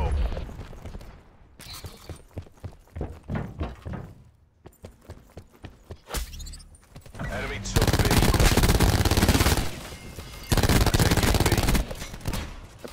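Rapid bursts of automatic gunfire and scattered single shots ring out loudly in Call of Duty: Black Ops 4, with sustained heavy volleys in the second half.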